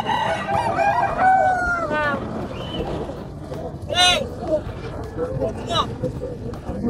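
Roosters crowing and chickens clucking at a pet market in Angeles City, with a close crow rising around the middle and other calls scattered about, mixed with people talking nearby.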